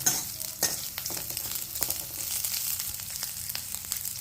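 Slit green chilies sautéing in a pan for a South Indian banana stem rasam crackle and sizzle steadily up close, with frequent sharp ladle scrapes and taps as they are stirred, and no speech.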